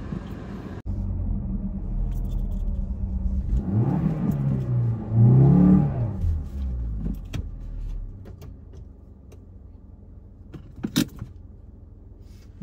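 A Maruti Baleno car stuck in beach sand revs its engine, a loud steady low rumble with a rising, falling surge in the middle and a brief clatter near the end, with no talking.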